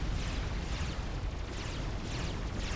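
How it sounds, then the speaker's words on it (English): An ACU explodes in the real-time strategy game Supreme Commander: Forged Alliance, giving a dense, sustained roaring blast of rumble and noise that fills the whole moment without any talk. "Stingers were not eliminated by the ACU explosion, though, so Thalia is still under threat from a Stinger"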